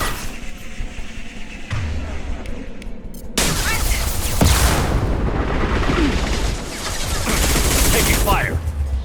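Sustained, dense gunfire fills a firefight in the Mass Effect video game, with loud rapid bursts rising partway through and continuing heavily, under brief voice callouts.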